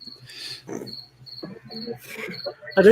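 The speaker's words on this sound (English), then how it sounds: "The crickets are bored at your place" Crickets chirping outdoors at night in short, regular pulses, steady in the background while people talk over them.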